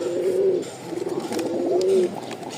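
A male pigeon kept alone for a long time, offered for sale, coos close by in a few soft, throaty rolling phrases with brief pauses between them.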